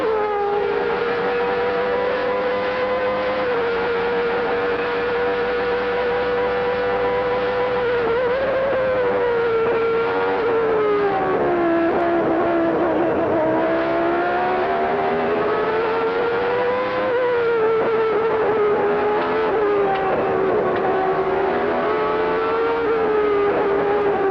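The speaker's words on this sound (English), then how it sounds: "Let's take a lap with Alain Prost and listen to that Honda V10." A 1989 Honda V10 Formula 1 car lapping the Japanese Grand Prix circuit with Alain Prost driving, heard as a steady, loud, high-pitched engine scream that rises and falls through gear changes and corners, continuous and alone.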